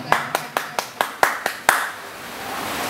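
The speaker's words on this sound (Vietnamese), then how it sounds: "Xin quý vị một tràng pháo tay." About eight distinct, evenly spaced hand claps ring out close by at a church parish music event, then fade into a quiet room.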